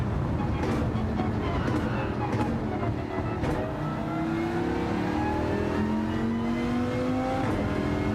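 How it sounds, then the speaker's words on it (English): A Dodge Viper engine in Gran Turismo 7, revving steadily upward with rising pitch over a sustained loud drone, close and continuous. "As I rev it out."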